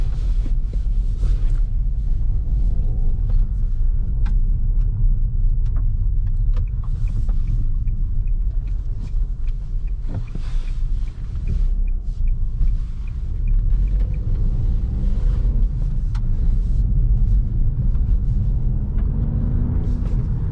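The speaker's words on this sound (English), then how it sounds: "I'll show you how does this car drive" Steady low engine rumble and road noise from inside a 2020 Nissan Juke with a 117 hp 3-cylinder petrol engine driving along, with faint wind buffeting and occasional ticks.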